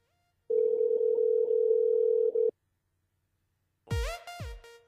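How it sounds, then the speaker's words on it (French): A telephone dial tone sounds as a steady, clean, hollow hum for two seconds on a call placed from a radio show to a listener, followed after a short silence by a brief tonal, warbling line signal. "Allez, on appelle Cynthia du côté de la Saline."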